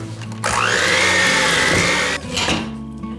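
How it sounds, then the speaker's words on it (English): An electric mixer running on low speed blends milk into marble cake batter, a steady close motor whir that starts abruptly, holds for under two seconds, then cuts off before a brief quieter rattle. "Let's mix in the milk on low."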